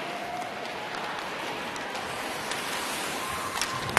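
A large hockey crowd at a PWHL arena game in Denver roars and applauds in a steady, dense wash of noise, with no single voice standing out.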